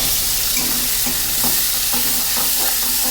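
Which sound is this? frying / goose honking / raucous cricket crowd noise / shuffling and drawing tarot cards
frying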